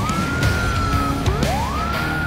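A police escort car's siren wails loudly and steadily, its pitch sweeping up and down in a continuous rise-and-fall pattern over road noise.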